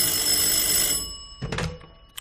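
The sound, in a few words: office telephone ringing in a radio drama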